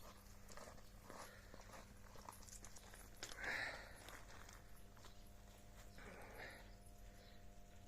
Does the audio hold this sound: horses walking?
yes